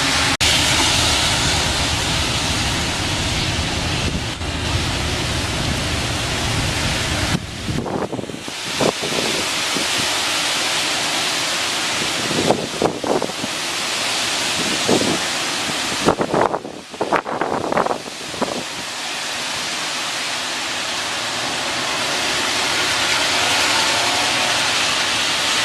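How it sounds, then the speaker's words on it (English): Hurricane-force wind gusts from Tropical Storm Isaias on Long Island roar loudly and continuously across the microphone, with harsh buffeting bursts and brief lulls through the middle. "That gust was hurricane force."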